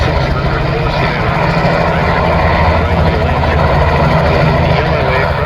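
Two 600-horsepower propeller aircraft at an air show, one with a direct-drive two-bladed propeller and the other a geared Wirraway, give a loud, steady, continuous engine drone with deep rumbling tones that holds unbroken throughout.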